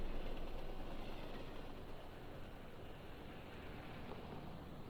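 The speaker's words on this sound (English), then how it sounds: "I can hear the far-off clatter of the train." A distant train in the video game Spirit Hunter NG makes a faint, steady low rumble and clatter that fades slightly over time, with no talking.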